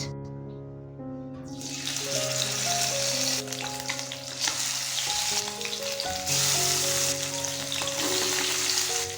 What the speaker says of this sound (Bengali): এবার এর মধ্যে দিয়ে দেব মাছ